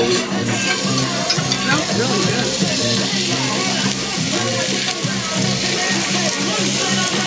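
Thin slices of Japanese beef sear on a very hot pan, giving a steady close sizzle with stirring and scraping under a busy background of voices and low rhythmic music.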